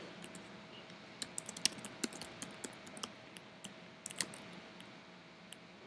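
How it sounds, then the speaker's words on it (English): Computer keyboard typing, with quiet irregular bursts of clicky keystrokes, some quick runs and a few louder taps, against a faint room hum. "I don't even know what I'm typing."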